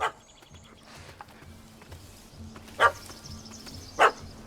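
A dog in The Witcher 3: Hearts of Stone barks at a cat up a tree, giving three sharp separate barks at the start, near the end and once more, over quiet outdoor game ambience.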